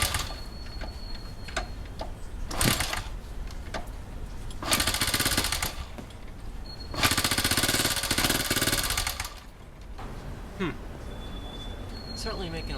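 A 1971 Honda CT90 motorcycle engine runs close by with a rapid, rattling idle, rising in several loud bursts of revving between quieter stretches. A voice is heard briefly.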